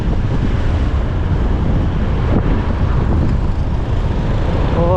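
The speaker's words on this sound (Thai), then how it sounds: "ลมพัดก็เป็นแบบอุ่นๆพี่น้องเอ้ย" A warm wind blowing along a street in Thakhek, Khammouane, Laos buffets the microphone in a constant loud rush of low rumbling gusts, with no other sound standing out.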